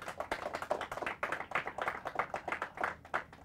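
A small audience at a quiz competition semi-final claps in a brisk, fairly quiet burst of individual handclaps that keeps going at a steady pace.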